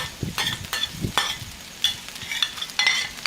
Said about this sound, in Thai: แล้วก็ผัดไว้ก่อน